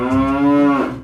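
A voice imitates a cow, giving one long, loud, sustained moo up close that fades at the end.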